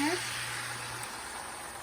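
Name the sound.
water running for a cold rinse of egg dish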